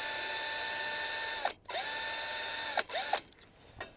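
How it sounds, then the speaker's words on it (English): A drill bores out a broken stud, whining steadily and loudly, cutting off briefly twice with short squeals and gear-like ratcheting as the bit bites and stops. "The drill is cutting good."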